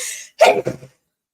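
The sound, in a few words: sneeze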